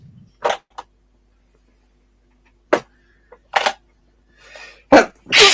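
A few short, sharp bursts spaced apart, a sneeze among them, with small clicks and a soft muttered sound in between, otherwise quiet.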